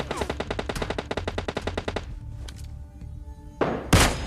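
Gunshots in PUBG Mobile Lite: a fast burst of sharp, evenly spaced shots for about two seconds, then quieter ringing and a couple of heavier single shots near the end.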